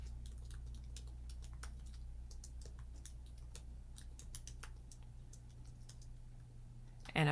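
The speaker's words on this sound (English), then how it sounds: "And then I just started typing." Faint, quick key taps on a computer keyboard come in irregular bursts over a steady low hum while text is entered into a document, ending with a short louder knock.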